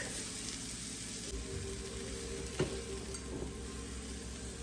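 Pork chops cook low and slow in a pan for a smothered dish, giving a steady, soft sizzle that runs throughout, broken once by a brief clink of a utensil.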